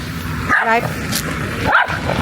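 A dog lets out two short, close barks about a second apart, set against a quiet outdoor backdrop.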